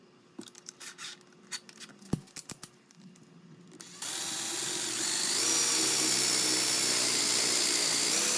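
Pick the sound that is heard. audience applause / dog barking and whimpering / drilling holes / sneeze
drilling holes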